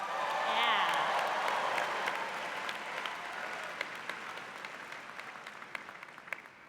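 Large audience cheering and applauding inside Radio City Music Hall at the NYU Tisch Salute to the Class of 2023, a loud, dense roar of clapping and whoops that slowly thins out, with scattered claps and voices in the hall.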